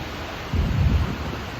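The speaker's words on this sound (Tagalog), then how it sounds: "Ito po ang dagat." Sea surf at a beach in Baler, Quezon at low tide, heard as a steady loud wash with a low rumbling surge in the middle, blended with wind noise on the microphone.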